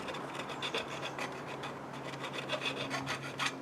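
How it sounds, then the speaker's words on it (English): A hand file rasps back and forth across a soft cut copper tube on a 1975 Johnson 15 hp outboard, a close steady series of scraping strokes with no talk. "So I'll clean it up with a file"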